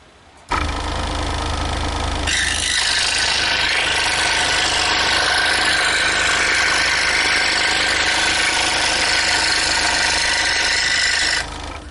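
Scroll saw with a fresh sharp blade cutting through 1/4 inch material, a loud steady motorized buzz that starts abruptly and continues throughout with a brighter cutting hiss added partway in, no talk.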